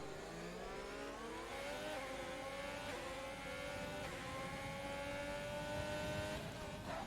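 A Renault Formula 1 car's engine screams in a racing video game at the Bahrain GP, a steady high-pitched whine that climbs through the revs, with other cars droning close behind.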